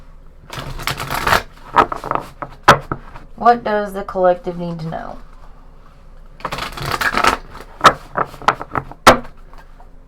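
Tarot cards being shuffled by hand during a collective reading, giving bursts of quick papery riffling and soft slaps near the mic, with a voice speaking between the shuffles.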